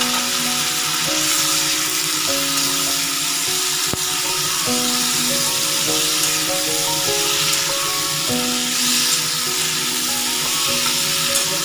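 Beans frying in a pan for a Bengali shrimp and spinach dish, a steady close sizzle throughout with tonal music notes playing over it.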